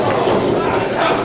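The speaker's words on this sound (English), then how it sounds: "This is the loudest we've heard this crowd all night." A wrestling arena crowd roars loudly and continuously, a dense wall of cheering with no breaks.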